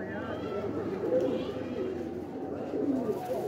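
Pigeons of a prized breed coo softly and repeatedly from close by, with people talking over them throughout.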